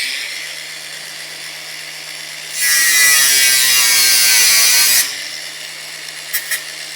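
Power tool cuts through the end of a cross-threaded bolt on a bicycle build, a loud harsh buzzing burst of about two and a half seconds that stands out over a quiet background, with a couple of light taps afterwards.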